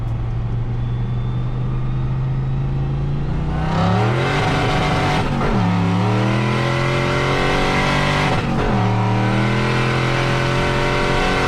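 A turbocharged Fox Body Mustang launches hard from second gear on the street, its engine rising steadily in pitch with two quick shifts that each drop the revs before it climbs again, loud and continuous throughout.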